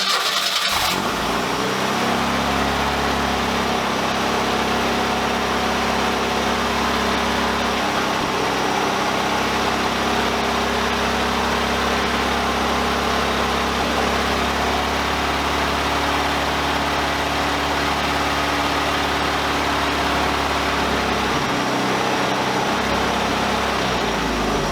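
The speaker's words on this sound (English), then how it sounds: "I don't think at any point in the series I've shown a proper cold start for the Fiero" A 1985 Pontiac Fiero 2M4 engine cranks and catches on a cold start, then settles into a steady, loud idle that drones on without change, ending with a brief dip.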